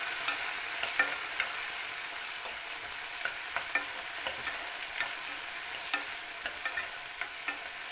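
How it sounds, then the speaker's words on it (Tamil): Cut okra and tomato frying in a pan with curry leaves, giving a steady quiet sizzle with scattered light scrapes and taps as the vegetables are stirred; no one speaks. "இது கூடவே கட் பண்ணி வச்சுருக்க வெண்டைக்காய் தக்காளி சேர்த்துடலாம். சேர்த்து நல்லா ஃப்ரை பண்ணிக்கோங்க."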